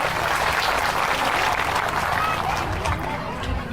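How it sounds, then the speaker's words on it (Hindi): A seated crowd at a World Tribal Day gathering gives continuous, dense applause, loud and sustained for several seconds with a slight fade toward the end. "समाज के लिए एक सम्मानजनक ताली"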